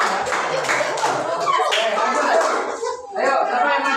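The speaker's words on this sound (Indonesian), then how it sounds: "kasih tepuk tangan yang sudah selesai" Students in a coding and artificial intelligence class give a round of hand claps, close and irregular, with chatter and a chuckle mixed in, and the clapping thins out near the end.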